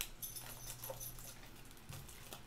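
A dog whimpers and whines softly with excitement, faint high whines over low rumbling room noise, with light panting and pattering close by and no talk.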